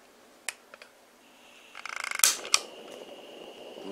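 A homemade soldering iron built from a gas torch is lit: a few sharp clicks, a quick ratcheting run of igniter clicks, then a pop as the flame catches and settles into a steady hiss.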